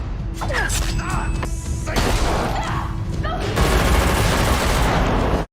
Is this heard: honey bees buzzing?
no